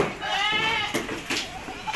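Billy goats bleat inside a livestock truck carrying Sirohi, Kota, Gujari, Totapari, Sojat and Malwa breeds, several loud wavering calls overlapping near the listener against a noisy, crowded background.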